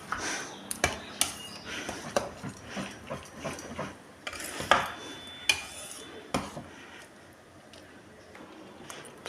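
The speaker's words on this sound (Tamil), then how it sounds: "நல்லா மிக்ஸ் பண்ணி விட்ருங்க" A spoon stirs sweet pongal in a pot, scraping and clinking against the metal in an uneven run of knocks that fades off toward the end.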